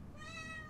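A pet cat gives one short meow, close and fairly clear over a low background hum.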